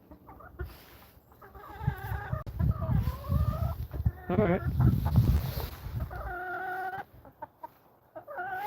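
A backyard hen clucks loudly and repeatedly in bursts of rising, squawking calls, close by, while a person briefly speaks.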